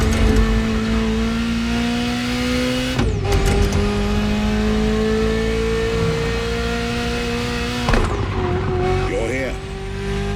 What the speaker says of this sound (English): nothing less than a road-legal Formula One, the Ferrari F50